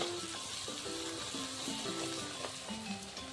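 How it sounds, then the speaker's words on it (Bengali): Spices fry and are stirred in a pan, a faint, continuous sizzle with soft tonal background sounds and light stirring knocks, no talking. "এই যে মশলা দিয়ে এখন মশলা কষানো হচ্ছে"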